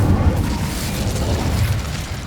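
Incendio fire spell cast in the game Hogwarts Legacy, a dense, rumbling whoosh of flame with a low booming body that sustains steadily for a couple of seconds, loud and close.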